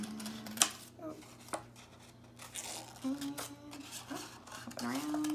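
Scissors snip through paper while dinosaur shapes are cut out, giving several close crisp cuts and paper rustles at an irregular pace, with a voice speaking faintly in the background.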